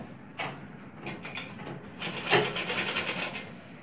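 Sewing machine stitching piping on a suit neckline, close and fairly quiet, with short bursts of rapid mechanical clatter, a pause and a longer pulsing run of stitches toward the end.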